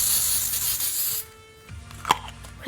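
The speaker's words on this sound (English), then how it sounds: "we're gonna spray one more layer of baking spray" A steady hissing spray of baking spray into a cake pan runs for about a second, then stops, followed by a few quiet clinks and handling sounds nearby.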